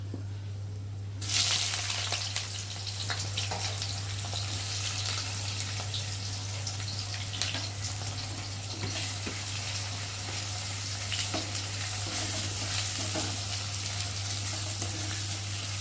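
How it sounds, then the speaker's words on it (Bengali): Onions frying in oil in a pan, a sizzle that bursts in suddenly after a second and then holds as a dense, hissing, even wash over a steady low hum. "আর এখন আমি পেঁয়াজগুলো দিয়ে ভালো করে ভেজে নেব।"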